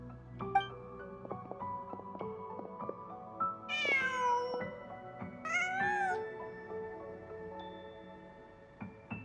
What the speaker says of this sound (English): Just a cat.